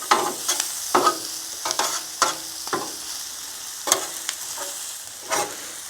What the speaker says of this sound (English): we're just gonna saute them